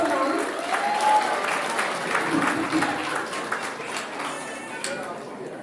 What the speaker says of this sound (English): Please give a round of applause for ma'am.